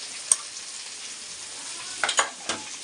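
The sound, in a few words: stirring spices into frying potato and brinjal bhaji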